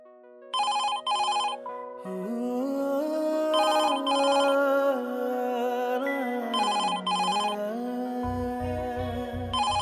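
An incoming call on a telephone in a Marathi TV serial scene rings in repeated bursts of two close trills, fairly loud, over a sustained musical background score.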